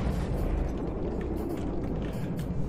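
Cram cannons firing at air targets in the naval combat game From the Depths, a dense, continuous roar of heavy booming blasts and rumble, loud and unbroken for under three seconds.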